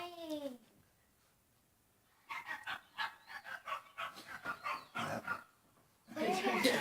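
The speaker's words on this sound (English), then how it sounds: "There's too many dogs in my room." A dog barks in a quick run of sharp, repeated bursts close to the microphone, following a brief tonal sweep and a quiet gap, with a louder burst of noise at the end.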